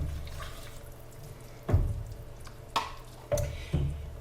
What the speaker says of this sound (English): I'm going to add the heavy whipping cream.